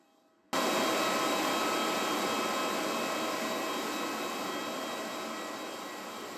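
A jet engine roars in with a sudden onset and then holds a loud, steady, broadband rush that eases slightly over several seconds, with no voices.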